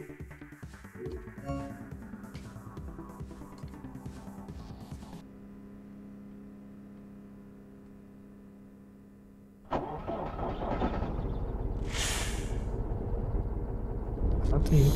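A truck engine in the game Truck Driver: The American Dream turns over and catches near the end, rising into a loud steady rumble after a stretch of quieter tonal hum and a voice talking at the start.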